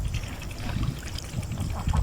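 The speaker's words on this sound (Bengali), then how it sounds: "এই হাঁসগুলো তখন পানিতেই বিচরণ করে" Ducks roam and forage in monsoon floodwater across flooded fields of the Chalan Beel wetland, with soft quacking and water trickling and splashing close by, a steady murmur of outdoor activity throughout.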